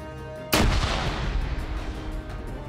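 A grenade explodes in the Arma 3 video game, a sudden loud boom followed by a rumbling, crackling decay with scattered gunfire behind it.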